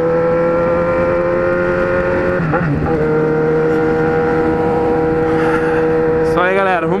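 A Kawasaki Z1000 motorcycle engine idles and revs with steady harmonic drone, pitch sweeping up in short blips near the middle and end, while someone talks over it throughout.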